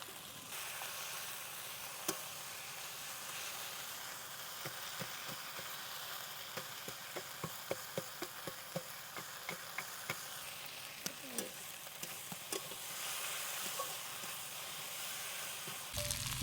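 Two river fish heads fry in a hot pan, giving a soft continuous sizzle dotted with sharp crackles and pops and occasional stirring clatter, close up and without speech.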